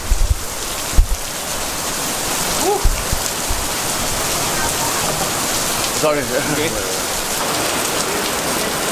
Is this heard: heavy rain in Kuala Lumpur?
yes